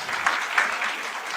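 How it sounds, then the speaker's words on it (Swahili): Audience applause at a closing ceremony of a Kenyan governors' and deputy governors' induction, a brief burst of many hands clapping together, fairly loud and continuous with a couple of sharper peaks. "Tuwapigie makofi kabisa."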